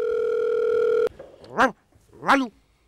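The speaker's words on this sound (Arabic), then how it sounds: "احنا رح نتصل لايف من الاستوديو" A telephone dial tone holds steady for about a second, then cuts off as a studio places a live call; two short voiced bursts of ringback or speech-like tones follow in a quieter line.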